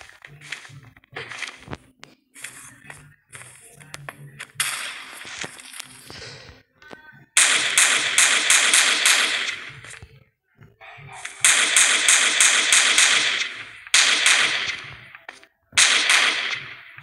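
Rapid bursts of machine gun fire in a Minecraft game, loud, sharp crackling volleys lasting one to three seconds each with short gaps, preceded by lighter clicks and taps.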